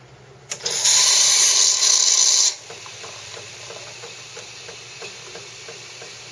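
A Jura Ena 9 one-touch coffee machine grinds beans in a loud, steady, close whirring burst of about two seconds, then drops to a quieter hum with faint ticking as it moves on to the next step.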